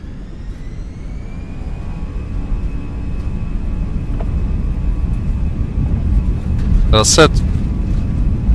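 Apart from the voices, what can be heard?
Airbus A320 jet engines at takeoff in MSFS 2024 video game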